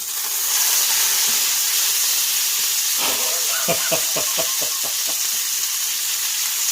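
Kagoshima Wagyu steak sizzles loudly in a hot pan, a steady bright hiss throughout with a burst of rapid crackling pops partway through as the meat shifts or is turned.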